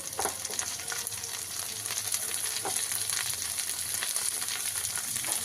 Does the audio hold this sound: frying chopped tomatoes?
yes